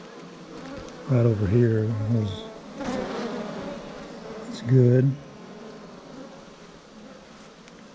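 Honeybees hum in a steady, close buzz inside a beehive deep box, a continuous drone under two short bursts of nearby talk.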